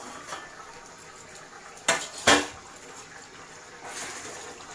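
A lid set down on a pan of brinjal and okra curry cooking on high flame, two quick sharp metallic clatters close together, with faint kitchen background and no talk.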